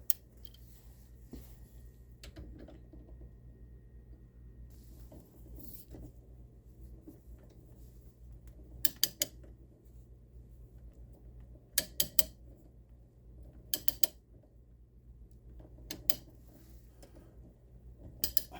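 A half-inch drive ratchet with a cheater bar works a stuck 6.5 PRC brass case loose, producing a few short bursts of sharp clicks over a quiet, steady low hum, with no talking.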